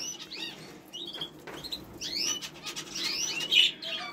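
Caged pet birds, lovebirds and canaries, chirp in bright, scattered bursts with soft wing flutters and rustling, fairly close and moderately quiet, with no talking.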